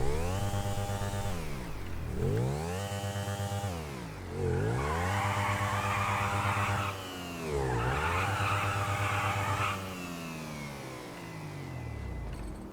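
A KTM RC 390 motorcycle in GTA V revs repeatedly, its engine note climbing and dropping in four or five loud, close surges with some rasping tire noise and no talking.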